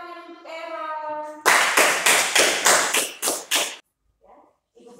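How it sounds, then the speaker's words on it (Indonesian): Students in a classroom clap for a classmate, about eight loud rhythmic group claps in unison after a teacher's voice, then a short pause and faint children's murmuring. "tepuk tangan untuk Aaron"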